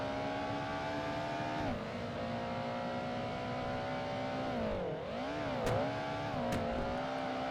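A race car in the Project Gotham Racing 2 video game drives at speed, its steady engine drone holding pitch, then dipping and rising as it shifts and regains revs, loud and continuous with no talk.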